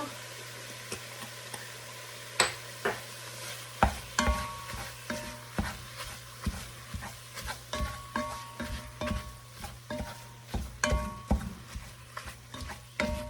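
Food browns in a pot for a Tuscan soup, a faint low sizzle under a rhythmic series of utensil scrapes and clinks against the pot, steady and close, with a low hum underneath.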